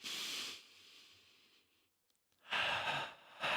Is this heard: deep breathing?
yes